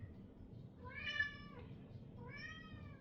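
Two clear, drawn-out meows from a house cat, close by and fairly loud, with a short gap between them over a low background hum.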